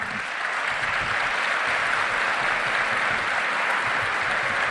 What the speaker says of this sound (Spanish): Bueno, aplauden, Karina no aplaude